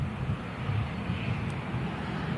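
A Virgin airliner roars along the runway at an airport, a steady, loud, broad engine rumble that holds evenly throughout with wind buffeting the microphone.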